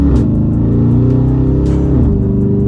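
A Dodge Charger R/T fitted with a K&N high-flow air filter revs loudly up close, a deep throaty engine roar that rises and falls in pitch with a steady rumbling undertone.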